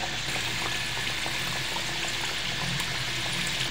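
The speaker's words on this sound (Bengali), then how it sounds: "আস্তে অল্প জালে করে ভাজতেছি যাতে ভিতরটা সুন্দর করে ভাজা হয়ে যায়" Rose pitha frying slowly in oil over low heat, a dense continuous bubbling sizzle that stays loud and even throughout, with no voices.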